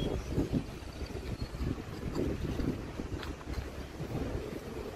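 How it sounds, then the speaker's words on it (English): Wind blows across an outdoor site where flint is gathered, a steady rumbling buffet of gusts against the microphone throughout, with no voices. "Ooh, that wind."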